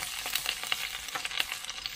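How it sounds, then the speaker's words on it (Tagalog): Ginger and lemongrass sauté in a hot pan, a steady close sizzle with crackling pops and stirring scrapes throughout. "Gisa-gisa lang natin."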